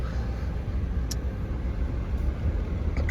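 A 2020 GMC Yukon SLE 4x4 with about 150,000 miles drives along a road, its steady low engine and road rumble heard from inside the cabin, continuous and fairly loud, with a couple of faint clicks.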